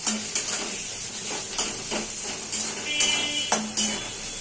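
Spices, green chili, tomato and ginger-garlic paste being sautéed for a katla fish curry, a light sizzle punctuated by repeated metallic clinks and scrapes of a spatula against the pan at an uneven rhythm.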